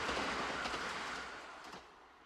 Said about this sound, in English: Across the way, a train rumbles by.